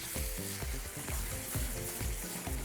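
Sauce for a chicken seekh kebab roll sizzling in ghee in a pan, a quiet, continuous hiss with soft stirring knocks, no one talking.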